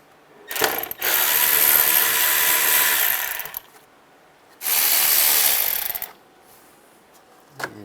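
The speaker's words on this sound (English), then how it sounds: "Use a T20 socket to take those out." A ratchet fitted with a T20 socket removes the intake tube screws on a 2006–2009 Volkswagen Rabbit, giving two sustained bursts of rapid clicking, each lasting a few seconds, close up, with short taps between.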